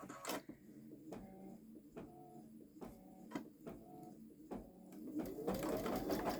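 A Babylock Solaris Vision embroidery machine starts to stitch, giving a series of evenly spaced mechanical clacks and whirs that build into a faster, louder run at the end.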